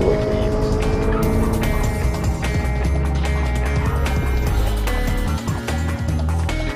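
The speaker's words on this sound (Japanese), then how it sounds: "自分が車を運転してるなっていうのを感じることができる音" A 2014 Honda Fit (Jazz) engine hums steadily and loudly from inside the cabin while driving, with a low rumble and road noise continuing throughout, no talking.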